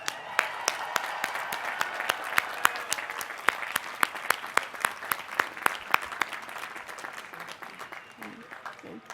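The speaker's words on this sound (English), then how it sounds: "Let's have a big round of applause for all of our graduates." A large crowd at a university commencement ceremony applauds the graduates steadily, with many hands clapping at once, then the clapping thins and fades toward the end.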